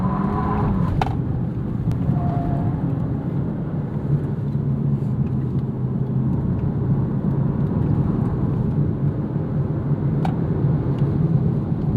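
A 2022 Genesis G70 2.0T hums along the road, its engine and tire roar a steady low drone from inside the cabin with no break.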